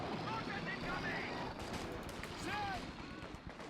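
Gunfire in the World War II strategy game Company of Heroes 2, dense bursts of small-arms fire with scattered impacts and vehicle rumble, running continuously beneath a commentator's voice.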